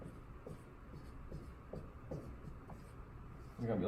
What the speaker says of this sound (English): I'll write out the truth table really quickly.